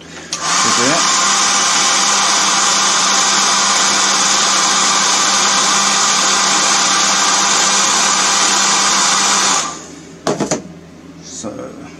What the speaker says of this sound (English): you have to excuse the hairdryer coming in.